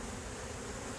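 Honey bees buzzing at a beetle-troubled hive, a faint steady drone of many wings with no pause.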